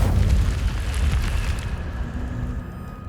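A fire spell explosion in Hogwarts Legacy, a loud, close, rumbling burst of roaring flame that slowly fades away over about three seconds.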